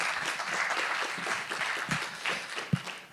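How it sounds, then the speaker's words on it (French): Audience clapping for a speaker at a French start-up training session, a moderate, fairly quiet patter of applause that thins toward the end, with a few louder individual claps near the finish. "Je crois qu'on peut l'applaudir"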